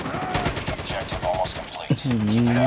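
Rapid automatic gunfire in the mobile shooter Call of Duty: Mobile, a fast run of sharp shots packed close together, followed by a short tonal game sound near the end.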